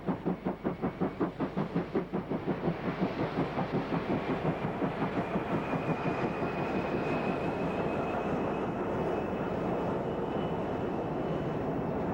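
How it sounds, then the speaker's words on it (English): A Class 23 locomotive and a Class 25 condenser locomotive haul a northbound freight train near Houtkraal, starting with heavy rhythmic exhaust beats that merge into a sustained loud roar as the train passes, with a faint whistle-like tone sustained above it. "Class 23, number 3300, and Class 25, condenser, number 3511, lead a northbound freight near Houtkraal."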